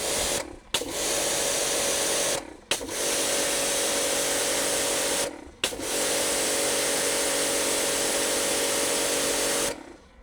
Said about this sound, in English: I'm even going to keep the pressure washer on with the hose reeled up.